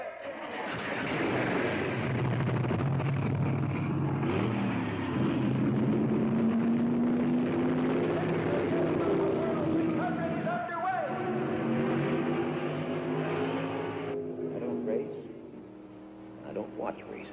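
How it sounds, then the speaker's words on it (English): NASCAR race car engines fire up and roar together, a loud sustained rumble of many V8s rising and shifting pitch, with a crowd and an announcer's voice underneath and engines thinning out toward the end. "Gentlemen, start your engines."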